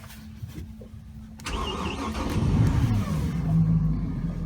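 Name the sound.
boat engine starting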